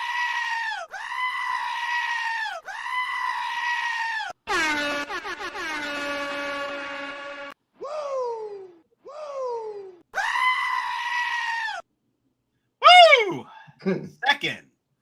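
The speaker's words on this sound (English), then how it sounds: "First off, love the goats. Bring back the goats, y'all." Goats bleat in long, loud, wavering cries, several in a row, separated by short silences and ending with shorter, choppier calls, each one close and on its own.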